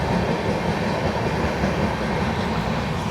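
The 13071 Howrah–Jamalpur Express passes close by on an Indian railway line, a loud, steady roar of wheels and carriages with faint clickety-clack, filling the whole moment without voices.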